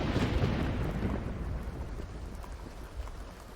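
Rain in The Sims 2 life-simulation game makes a steady broadband hiss of falling water, loudest at the start and easing slightly, with no talking.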